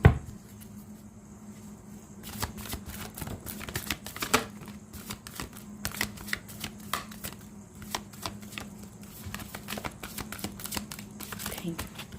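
Tarot cards are shuffled by hand in rapid, riffling bursts of crisp flicks and taps, close and repeated, with a voice talking over them at times.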